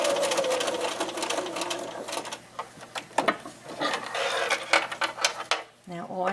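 A sewing machine stitches a fabric lanyard keychain, backstitching over the same seam, giving bursts of rapid mechanical whirring that stop and start with small clicks and handling knocks between runs.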